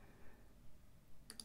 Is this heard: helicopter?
no